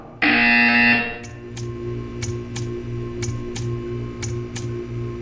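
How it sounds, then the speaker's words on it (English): A loud, harsh buzzer from the video game Portal 2 blares for about a second, then gives way to a steady hum with a series of evenly spaced ticking clicks. "You will hear a buzzer. When you hear the buzzer,"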